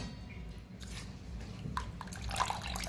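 Water drains through a strainer from soaked, twice-washed rice and lentils for idli batter, a soft trickling and dripping with a few small drips and splashes, fairly quiet and close.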